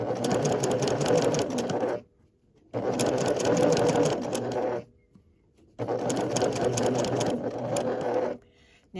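A sewing machine stitches fabric around a circle for a mini zipper pouch in three steady bursts of a few seconds each, separated by short pauses, close and fairly loud with no talking.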